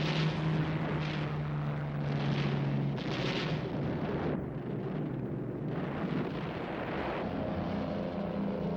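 A German bombing raid over London rumbles on, a dense, continuous roar of aircraft engines mixed with heavy booming blasts that swell and fade, loud and unbroken throughout.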